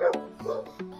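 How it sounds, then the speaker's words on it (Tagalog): Dogs barking inside a large farm kennel housing breeds such as Doberman, Cane Corso and Malinois: a few close, sharp barks and yips in quick succession, fairly loud, with no talk. "Parang may aso ka ba dyan sa loob?"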